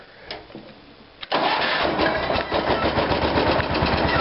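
An old car engine on original battery cables cranks briefly with a starter whir, then catches and roars to life at once, settling into a loud, steady running rumble.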